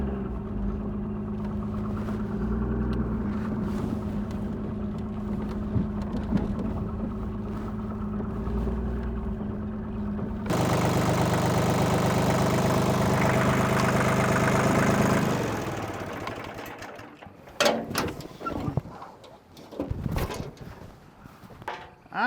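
A truck engine idles steadily, then rises to a louder, rougher run as it is driven away, fading into scattered clunks and knocks near the end.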